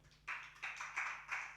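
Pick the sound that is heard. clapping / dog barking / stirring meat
clapping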